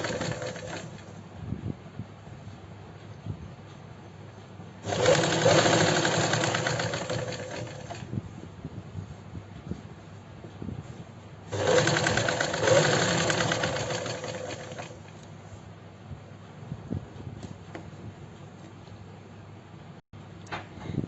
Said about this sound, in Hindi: अब यहाँ पे हम सिलाई लगाएंगे एक दबाव बनाने के लिए, ताकि जो हमारी लेस है या जो हमारी सिलाई है वो अच्छे से बैठ जाए